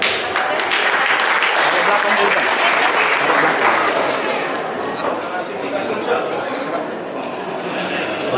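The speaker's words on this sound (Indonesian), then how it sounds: "kasih aplaus" An audience applauds at the closing ceremony of a chess championship, sustained dense clapping from a crowd, loud at first and easing slightly toward the end, with some chatter underneath.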